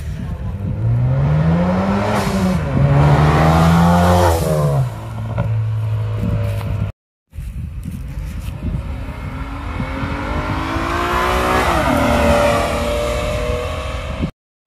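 A Ford Focus RS at a Sunday car meet in Lakeside Park, Fond du Lac, revs loudly and close by, its engine pitch climbing and dropping in sweeps, then settling into a steady, strong drone after a brief gap.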